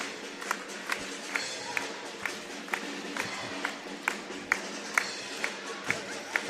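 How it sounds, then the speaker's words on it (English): A crowd at a school sports game in a stadium, sharp rhythmic claps repeating steadily over a wash of crowd noise, fairly distant and moderate in level. "The crowd is wild here tonight."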